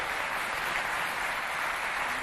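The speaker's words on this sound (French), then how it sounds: "Applaudissez pour vous, s'il vous plaît." Studio audience at a Chadian television game show breaks into steady, dense applause, loud and continuous throughout with no voices.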